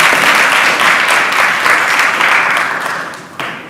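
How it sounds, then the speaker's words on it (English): Steady, dense applause from a summit audience fills the room at full volume, holding level before thinning slightly near the end with a brief lift. "Join me in the round of applause."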